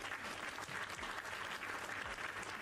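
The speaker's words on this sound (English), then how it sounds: "let's give them a round of applause" Audience applause in a live online gaming stream, a steady sustained wash of many hands clapping, moderately loud and continuous throughout with no talk over it.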